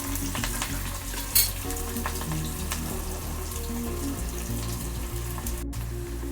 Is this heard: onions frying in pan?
yes